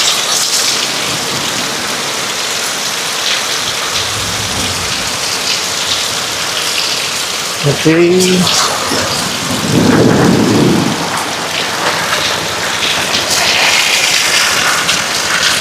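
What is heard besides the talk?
heavy rain during typhoon Uwan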